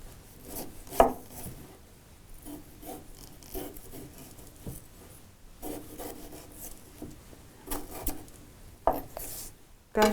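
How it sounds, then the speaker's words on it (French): A knife slices a peeled potato into thin rounds on a board, giving irregular close-up cuts and scraping strokes with sharper knocks scattered among them, and no talking. "je vais couper ma pomme de terre en fines lamelles"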